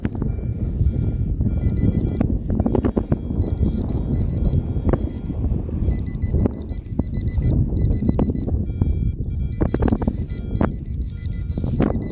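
A new metal detector sweeping outdoors in a field gives repeated high electronic beeps and tones in short bursts, over a low rumble of wind and ground scraping.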